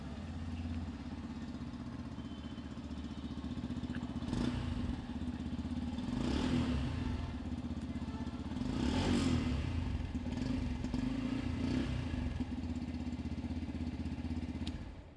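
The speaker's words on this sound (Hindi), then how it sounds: "तो ये है इस बाइक का साउंड" A Yamaha FZ X Chrome Edition motorcycle engine idles steadily with a low, throbbing hum, briefly revving a few times, close by and with no talking.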